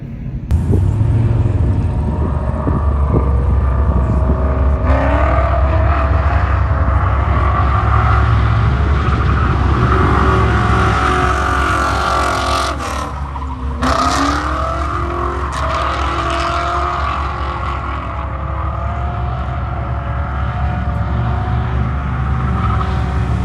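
A drift car's engine roars and revs hard on a track, loud and close throughout, with a steady heavy rumble and rising, falling throttle swells and a brief dip midway.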